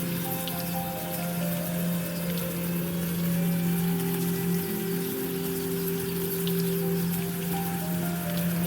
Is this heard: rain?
yes